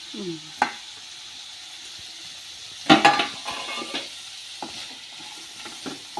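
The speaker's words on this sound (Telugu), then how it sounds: "అంతా ఒకసారి ఇట్లా కలదిప్పి" Flat beans and leafy greens with rock salt are stirred in a cooking pan, with a soft sizzle under a few scraping and clinking strokes of a spoon against metal, close and moderately quiet.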